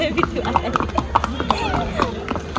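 Horse hooves clip-clop in a steady, even rhythm close by on a horse ride at the Matheran hill station, with people talking over the footsteps.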